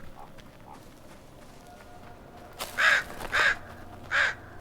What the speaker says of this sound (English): Relax, crows.